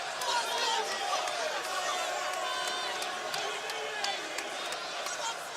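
Crowd at an MMA fight between Rob Broughton and Eric Butterbean Esch, a steady roar of cheering and chatter from a large audience, with occasional whoops rising over a continuous babble.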